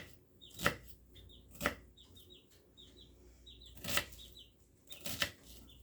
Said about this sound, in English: I'm just going to do kind of a rough chop